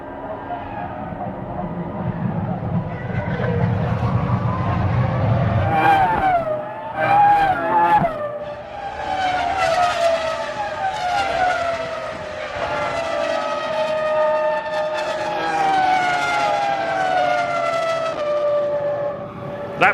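Formula 1 cars of 2005 at Silverstone during the British Grand Prix, engines screaming loudly as they pass and rise and fall in pitch, several overlapping, with commentary voices running underneath.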